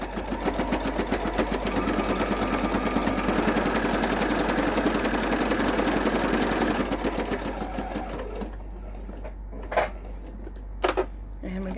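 Sewing machine stitching binding onto a quilt, a fast steady whir running for about seven seconds before stopping, followed by quieter handling and a couple of sharp clicks near the end.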